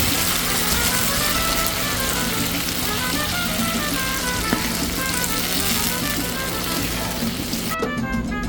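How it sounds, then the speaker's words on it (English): Red enchilada chile sauce hits a hot pan with a loud, steady sizzle and crackle of frying that fills the whole stretch, then cuts off sharply near the end. "Now time to put the sauce in a different pan."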